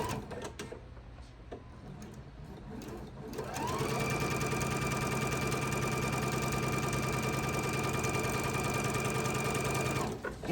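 A sewing machine stitches seams on a quilt block, starting after a few seconds of quiet handling noises and then running fast and continuously at a steady buzzing pace until it stops.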